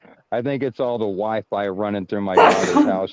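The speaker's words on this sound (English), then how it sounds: "Oh, I've got a sneeze." Someone talks briefly, then ends with a sudden, forceful human sneeze, loud and close.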